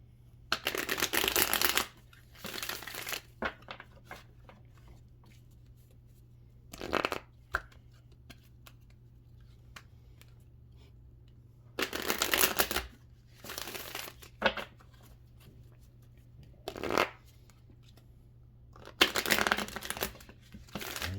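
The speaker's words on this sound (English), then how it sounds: "One more clean shuffle." Tarot cards are shuffled in several separate bursts of crisp riffling, each a second or two long, separated by quiet pauses over a low hum.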